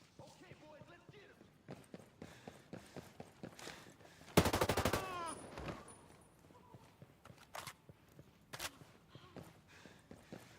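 Weapon fire in Ghost Recon Breakpoint, a tight burst of rapid automatic shots around the middle, with scattered single shots and footsteps before and after under a talking voice.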